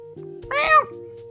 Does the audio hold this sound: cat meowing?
yes